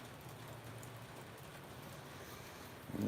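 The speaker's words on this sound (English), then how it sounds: "And it's still raining." Rain falling outdoors as a steady soft hiss with faint patters, a continuous even wash, and a brief louder knock right at the end.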